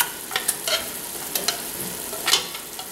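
Cream of chicken soup being scraped out of a can with a spatula for a chicken casserole, making a few soft, brief scrapes and wet scoops at a quiet, close distance with no talk.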